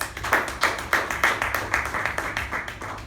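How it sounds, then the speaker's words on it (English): Applause at a Toastmasters club meeting, a small group clapping with distinct, roughly regular hand strikes about every third of a second, close and moderately loud for three seconds. "So let us give her a huge round of applause."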